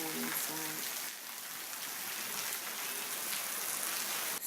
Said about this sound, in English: I love the sound of the rain beating against my window